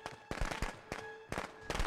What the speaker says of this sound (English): I got him with firecrackers